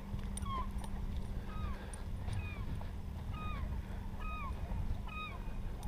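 A dog whimpers and yips on a fishing boat during walleye and pike fishing, high, repeated, short cries over a steady low outboard-motor hum.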